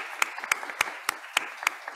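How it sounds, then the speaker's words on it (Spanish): Sparse, evenly spaced hand claps ring out in a steady rhythm, a handful of sharp claps rather than a dense crowd. "Y Mauro, puedes colocar de pie para aplauso para ti"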